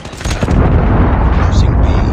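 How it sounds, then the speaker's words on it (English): A Predator missile strike in the Call of Duty Mobile video game lands as a loud, sustained rumbling blast that rolls on for about two seconds amid battlefield noise. "Predator missile inbound"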